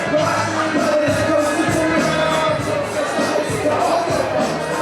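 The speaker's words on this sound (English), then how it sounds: "The crowd is buzzing." Wrestling crowd at a Prairie Pro Wrestling main event, a dense continuous murmur of many voices in a hall with scattered shouts and thuds, steady and fairly loud, with a voice talking over it.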